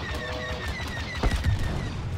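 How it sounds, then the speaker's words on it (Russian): An explosion in the video game Star Wars Battlefront 2 lands as a sudden low, rumbling burst midway through, over sustained tonal game sounds and crackling battle noise. "красивый взрыв"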